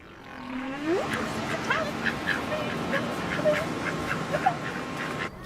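Ducks quacking and calling outdoors, several birds with scattered squawks and honks over a steady background hum, moderately loud throughout.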